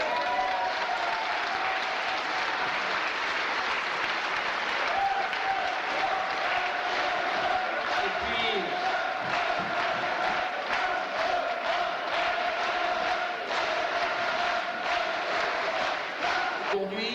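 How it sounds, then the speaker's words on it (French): Sustained, dense applause from an audience at the second Saint-Léger gathering of France and beyond in 1999, filling the whole stretch loud and steady with no pause and a faint tonal thread running through it. "il mérite à nouveau tous vos applaudissements"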